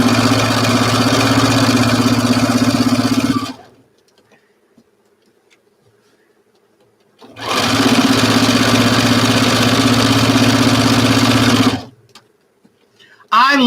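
A domestic sewing machine stitches fabric in two loud sustained runs of steady motor hum, about four seconds each, separated by a quiet pause; a faint voice briefly speaks near the end.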